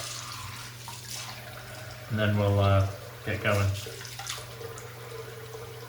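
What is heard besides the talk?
water running from tap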